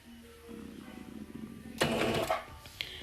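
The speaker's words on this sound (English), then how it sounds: "we're going to continue to lightly press on the pedal" A sewing machine stitches a wig, starting with a faint low whir that swells into a louder, rapid mechanical clatter near the end.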